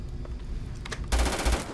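Gunfire in the video game Starfield as shots hit a target: a few scattered shots, then a loud, rapid automatic burst near the end.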